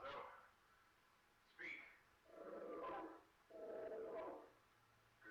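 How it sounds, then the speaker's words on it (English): A dog barks and yips from a played video, several short bursts of moderate loudness with people talking over and between them. "No, that's the dog."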